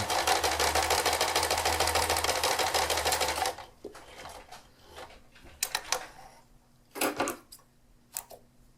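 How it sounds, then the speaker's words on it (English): A sewing machine runs a reinforcing line of stitches, a loud steady rapid whir for a few seconds before stopping, followed by quieter scattered clicks and handling noises. "And let's just flip it around and sew along a reinforcing line there too."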